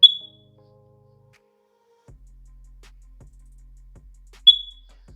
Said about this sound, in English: that one beep means the system is interconnected and it's all good to go